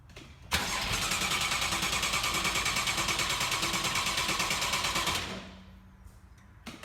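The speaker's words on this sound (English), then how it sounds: "Each time the system will allow itself to crank for about 5 seconds" A Porsche 981 engine cranks rapidly and rhythmically for about five seconds without catching during an oil service, then winds down into quiet.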